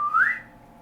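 A single short whistle for calling a pet ferret, clear and close, with the pitch sweeping upward before it quickly fades into quiet room tone.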